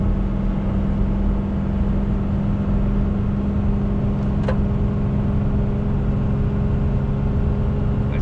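A 2017 Ram 3500 with a Cummins diesel and 4.10 gears tows about 30,000 lbs, its engine droning steadily and loudly from inside the cab as it gains speed, with no talking.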